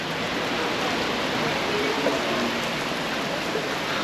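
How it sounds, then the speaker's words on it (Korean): Heavy rain pours steadily onto a city street in Bucharest, a dense, even hiss with no breaks, close and loud throughout. "비가 점점 많이 온다."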